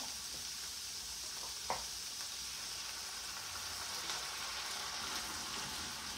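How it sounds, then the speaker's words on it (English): A steady sizzle of chicken broth hitting a hot pan, with crackling and frying throughout and a single sharp tap partway through. "now we're gonna go in with some chicken broth."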